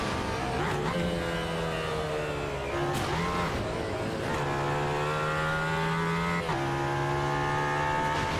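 Porsche race car in a sim racing game, engine droning loud and close with rising and falling pitch through gear changes, brief dips and tire squeal as it brakes and accelerates again.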